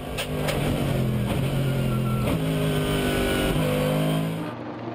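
Onboard a Mercedes SLS GT race car at the start of the 2011 Dubai 24 Hour race, the engine roars loud and close, holding steady and shifting pitch through gear changes before it cuts off abruptly at the end.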